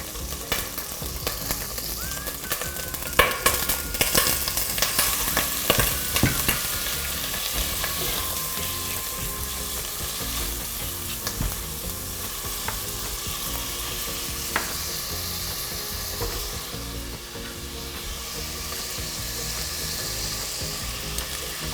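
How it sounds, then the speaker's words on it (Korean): Garlic and beef frying in a soup pot for spicy spring cabbage beef soup, a steady dense sizzle with occasional stirring scrapes and clatter, close and continuous throughout with no talking. "이렇게 마늘 향이 올라오면 다음에 소고기를 넣어줄 텐데요."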